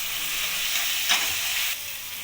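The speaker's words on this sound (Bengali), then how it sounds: "এবার আমি মশলাটাকে ভালোভাবে কষিয়ে নেব।" Spice paste of ginger, tomato and green chilli frying in oil for chicken kasha, a loud steady sizzle with brief scraping stirs partway through, close up and without speech.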